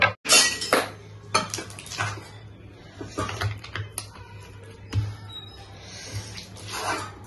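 A spoon scrapes and clinks in a pan as a peanut chikki mixture is stirred quickly, with irregular close knocks and scraping bursts at a moderate level and no talking.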